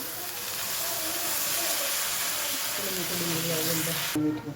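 Green onion, hing and turmeric sizzling in hot oil in a home kitchen pan, a steady broad hiss close up that holds for several seconds before dropping off suddenly near the end.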